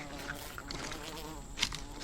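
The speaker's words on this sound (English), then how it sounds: "Dang bee." A bee buzzes close by near a river for about two seconds, its hum steady and droning outdoors, with no voices.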